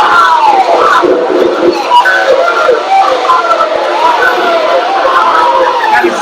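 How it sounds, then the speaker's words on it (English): Crowd aboard a ship at sea reacting to a total solar eclipse: a loud, dense wash of cheering, shouting and excited voices, sustained and somewhat distorted throughout. "I want you to listen to the audio because this is the crowd's reaction when the sun gets completely blocked."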